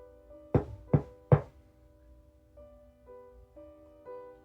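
Three firm knocks on a door, evenly spaced and close by, followed by a quiet stretch with only a faint, steady tonal hum.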